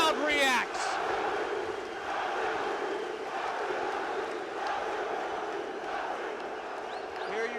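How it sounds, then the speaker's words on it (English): Crowd at a 1998 UFC event in Brazil reacting to a tap-out, a sustained roar of cheering and shouting filling the arena throughout, with a few louder individual yells rising above it. "And the crowd reacts."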